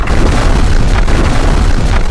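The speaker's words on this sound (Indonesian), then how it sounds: "Untuk mempercepat segalanya, Moyu melepaskan rentetan Corp Explosion." A chain of loud, booming corpse explosions in a dark-fantasy audiobook battle, a dense continuous roar of blasts and rumble running without pause and no voice over it.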